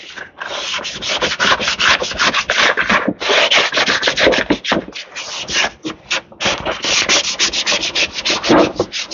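Sandpaper rubbing a fiberglass foot tub from a 1977 Honda FL250 during restoration, close and loud, with rapid rhythmic back-and-forth strokes and brief pauses between bursts.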